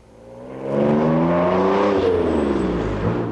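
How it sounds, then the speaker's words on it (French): A loud modified car exhaust revs up sharply, rising to a roaring, raspy growl that holds steady and close, then begins to ease off. "Qui n'a pas déjà entendu ce bruit assourdissant tout droit sorti de ces bolides?"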